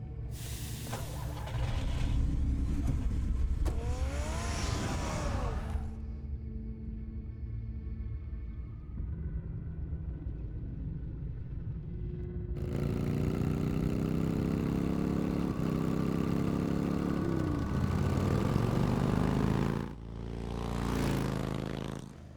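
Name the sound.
car engine starting and driving, from Batman video game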